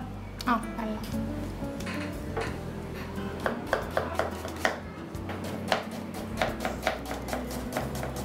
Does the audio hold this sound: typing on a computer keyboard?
no